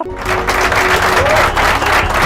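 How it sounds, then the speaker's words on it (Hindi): Audience applause in a comedy show, a loud, close, steady burst of many hands clapping that carries through the whole moment with crowd murmur beneath. "बजा दो इसके लिए भी तालियां यार।"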